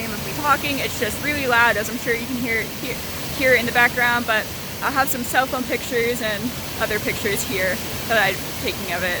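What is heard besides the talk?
loud giant waterfall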